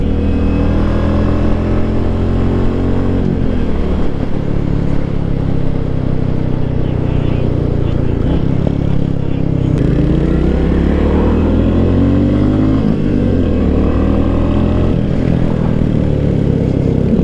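Royal Enfield Meteor 350 motorcycle (2024) being ridden on back roads: a loud, continuous single-cylinder engine drone with rising and falling revs as it accelerates and shifts, plus wind rush throughout.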